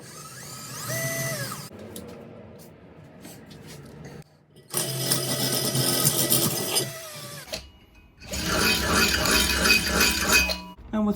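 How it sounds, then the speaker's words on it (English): Power drill boring a hole through metal for a handmade welded rose, heard as two sustained, fairly loud grinding bursts, each several seconds long, after a quieter stretch of shop clatter. "Now we'll drill a hole."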